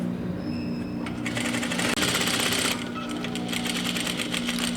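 A sewing machine topstitches the cuff of a women's shirt, running in a quick rattling burst of stitches for over a second before stopping, with a brief click between.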